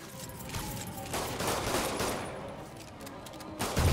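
Enemy gunfire in the Spider-Man video game, a rapid rattling volley of shots that swells and fades over the few seconds, fairly distant and muffled, set against a dense background of game noise.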